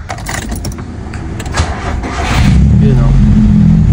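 A Nissan B14 car engine cranks and catches, with clicks and rattles before it settles into a loud, steady running rumble up close; a voice talks briefly early on.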